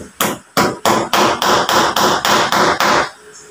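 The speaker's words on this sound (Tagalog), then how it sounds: "Ano ang martilyo ko, napakagaang gamitin" A hammer striking repeatedly during VDSL to fiber optic cable migration work, about nine sharp, loud, evenly spaced blows, each ringing briefly before the next, then stopping.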